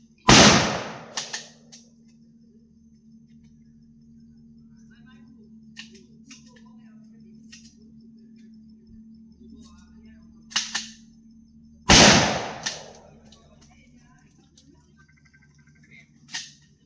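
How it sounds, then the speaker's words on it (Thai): Pistol shots at a shooting match: a few sharp, loud cracks spaced seconds apart, two especially strong with echoing tails, separated by a steady low hum and faint background noise. "เขายิงหกนัดนะครับ"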